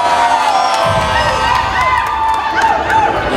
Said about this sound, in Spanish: A ver, ahora el grito para los chambelanes.